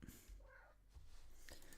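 A house cat lets out a single short, soft meow, faint and close, set against a quiet room background.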